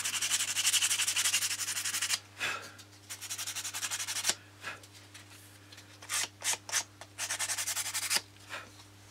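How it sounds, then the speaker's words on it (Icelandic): Sandpaper rubs the lacquer off a boat's hull side in close, scratchy back-and-forth strokes, first one long stretch and then shorter bursts with pauses, over a steady low electrical hum. "pússa hérna þar sem að reyna að ná lakkinu aðeins af"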